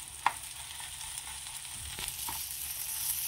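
Chili paste sizzles and fries in a hot pan while it is mixed in, a soft continuous crackle with a few light clicks of a spoon or spatula. No one talks.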